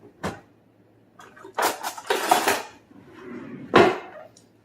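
Kitchen utensils rattled and clattered while a spatula is picked out for icing a cake, several short metallic clinks and scrapes in quick separate bursts, close by.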